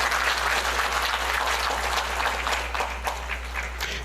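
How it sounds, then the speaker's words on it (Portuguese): Sustained audience applause at an anniversary ceremony and board installation event, dense steady clapping filling the room from start to finish with a constant low hum underneath. "Então, uma salva de palmas para todas as mulheres presentes aqui dentro."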